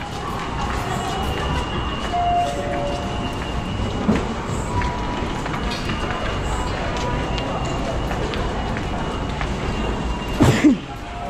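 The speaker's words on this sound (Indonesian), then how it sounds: "Suasana kereta api MRT." Interior ambience of an MRT train ride: a steady, even rumble and hiss with faint murmuring voices throughout, and a brief louder thump near the end.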